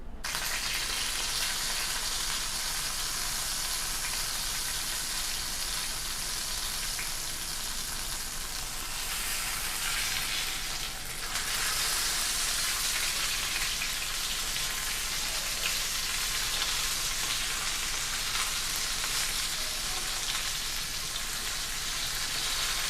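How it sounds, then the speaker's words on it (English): Tomahawk steak searing in a pan on high heat, a loud continuous sizzle with crackling spatter holding steady throughout, no voices. "In the high heat, we're gonna just sear the steak."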